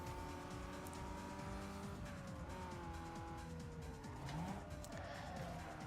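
Front-wheel drive car launching off the line at a race start in Need for Speed Underground 2, engine revving hard with rising gear pitches and a brief tire squeal, loud and continuous over a steady game soundtrack.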